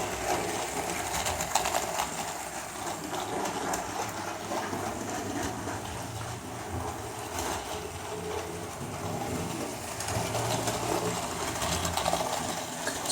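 A Bachmann LNER 1306 Mayflower model locomotive running on a tight-radius track, giving a continuous faint mechanical whirr and rattle from the motor and wheels that holds steady throughout, with no voices.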